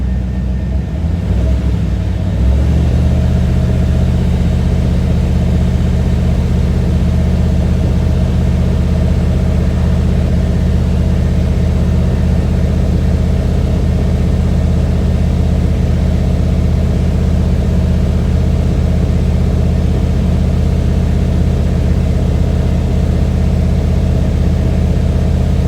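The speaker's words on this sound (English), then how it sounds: "Give her some more revs." A Pontiac Firebird F-body engine runs loud and close with a deep, continuous drone, holding steady revs after a brief shift at the start.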